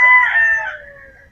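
A gamefowl rooster on a game farm gives a single close, loud crow that trails off in just over a second.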